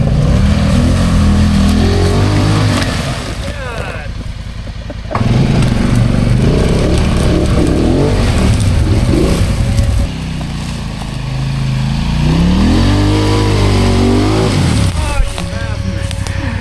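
An ATV swamped in Brick Lake roars loud and close, its engine revving hard in long surging bursts that rise and fall without a break, while voices talk over the noise.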